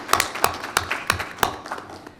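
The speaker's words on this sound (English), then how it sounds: "How about a little round of applause?" A small audience at a transit authority board meeting gives a brief round of applause: a handful of distinct, sparse claps at close range that thin out and fade within about two seconds.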